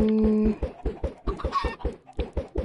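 Several Minecraft chickens cluck in quick, evenly spaced bursts, close and distinct, with a brief higher squawk in the middle and no voices.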